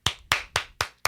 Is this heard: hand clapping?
yes